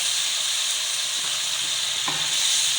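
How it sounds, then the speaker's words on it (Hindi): Yogurt and spices fry steadily in a pot for chicken heart pulao, giving a continuous close, even sizzle and hiss with a faint stir or clink near the end. "अब इस दही का पानी भी हमने भून के खुश्क कर लेना।"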